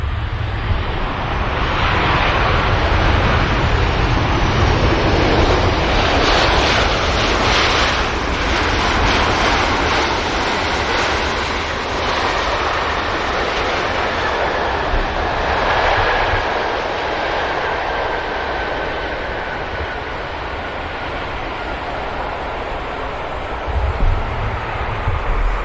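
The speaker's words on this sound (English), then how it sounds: "Another sleek touchdown from the Ryanair." A Ryanair jet touches down at Manchester Airport, a loud, sustained roar of engines and rollout swelling and fading over many seconds, heard from a distance with wind buffeting the microphone.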